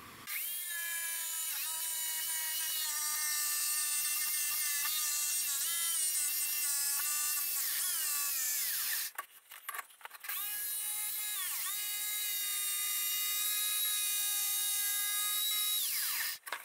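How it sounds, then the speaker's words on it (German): A jigsaw runs along a guide rail while cutting during a motorhome interior build, giving a loud, sustained high-pitched whine that shifts in pitch, breaks off briefly midway, then resumes until it stops. "Und jetzt brauche ich nur noch entlang dieser Schiene einfach mit meiner Stichsäge fahren, bis da hinten der Strich sichtbar ist."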